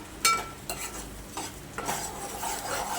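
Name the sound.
ground spice paste being sautéed in oil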